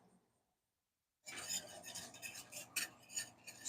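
Butter stirred with a metal utensil in a cast iron pan, starting after a second of near silence, then a continuous scraping sizzle with irregular sharper scrapes and clicks, close and fairly quiet.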